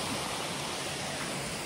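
Water from a stream below a waterfall near a Shiv temple near Badlapur rushes in a steady broadband wash, moderately close and continuous, with no voices.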